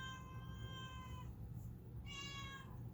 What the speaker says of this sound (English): I got a whiny cat in the background.